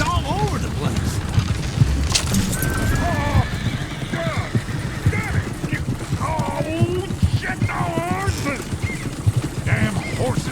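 Horses in Red Dead Redemption 2 neigh and whinny repeatedly over steady clip-clopping hooves, with people talking in the background.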